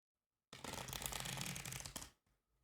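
A deck of playing cards is shuffled in one quick, crisp riffle, a dense flutter of card edges lasting about a second and a half, close and clear against an otherwise silent background.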